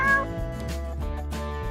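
A cat meows over a sustained tonal background, with one clear harmonic cry near the start and softer mewing after, moderately close.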